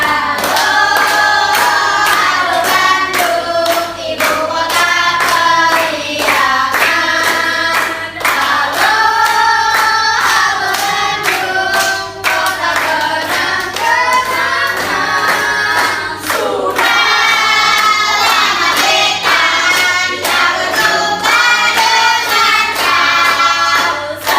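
Children in a fourth-grade classroom clap their hands in rhythm along with singing, a loud, steady beat carried under the melody for the whole stretch.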